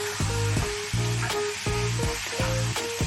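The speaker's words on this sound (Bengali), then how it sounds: "আমি অল্প অল্প করে কষবো আর অল্প অল্প করে জল দেবো।" Chola paneer masala sizzles and fries in a pan, with a loud steady hiss broken by repeated rhythmic scraping strokes of a spatula stirring the mixture, close up.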